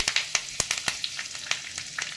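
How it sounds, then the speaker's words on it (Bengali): Curry leaves dropped into hot refined oil with black mustard seeds and cumin, sharp crackling pops and spits over a steady sizzle, close and busy throughout. "আমি এবার একটু কারি পাতা দিয়ে দিচ্ছি"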